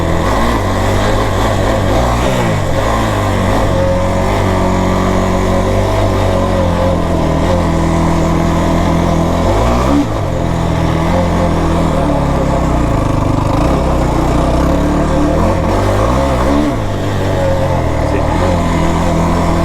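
Kawasaki KFX 450R or Yamaha YFZ 450R ATV engine heard on board at low speed, a loud, constant droning thrum that swells and dips slightly as the throttle changes, with no voice audible above it.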